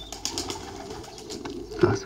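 Pigeon cooing outdoors near a village, a soft low coo rising briefly near the end amid faint background birdsong and rustle.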